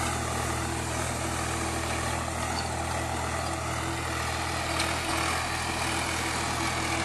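An old Swaraj 735 tractor engine drones steadily and loudly while ploughing a field, a constant low rumble with no talk over it.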